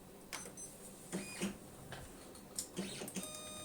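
A used HP LaserJet M5035X MFP printer scans a page at low resolution, making quiet mechanical ticks and clicks in uneven bursts over a soft background hum.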